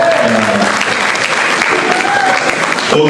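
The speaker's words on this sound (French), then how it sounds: "Pour applaudir pour moi, s'il vous plaît." Audience applauding a presenter at an event presenting an African guide in Belgium, loud sustained clapping with a few voices and faint tones mixed in, ending abruptly.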